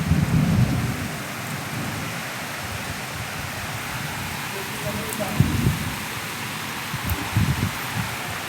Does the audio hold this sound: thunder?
yes